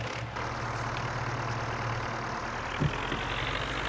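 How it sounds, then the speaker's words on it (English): An old diesel tractor engine idles in Farming Simulator 19 with a steady, low, rumbling chug. It holds evenly for about four seconds, with a faint knock near the end and no talking. "It really sounds like that old diesel engine you could imagine from that era."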